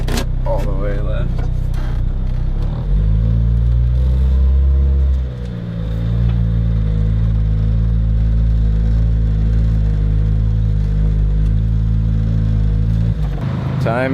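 Car engine rumbling steadily while driving, a loud continuous low drone with vibration and shaking that dips briefly midway, with no talking over it.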